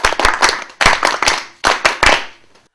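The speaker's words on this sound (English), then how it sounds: "Clap for yourself." A classroom of students claps for themselves in three quick bursts of sharp, close, rhythmic hand claps, each group of beats separated by brief pauses before trailing off.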